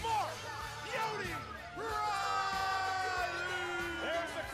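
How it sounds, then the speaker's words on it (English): A live crowd at a Movie Trivia Schmoedown match yells and cheers with whoops and shouts over loud entrance music, fairly close and lively throughout. "There's the crowd."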